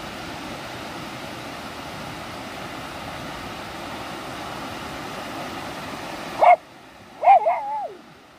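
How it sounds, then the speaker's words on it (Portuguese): Steady broadband noise runs throughout, then drops away; a dog then barks once, and a second bark trails into a whine, fairly near. "Tá passando um cachorro aqui agora e vai começar a latir."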